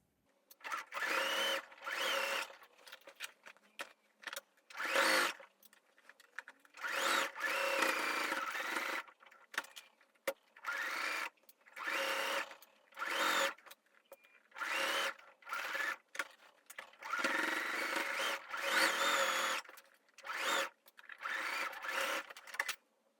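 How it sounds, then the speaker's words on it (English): A sewing machine stitches around a garment's armhole and neckline, running in repeated bursts of a few seconds each with short pauses between, steady and fairly close, with no talking. "I'm just going to sew all the way in the armhole and the neck and the armhole"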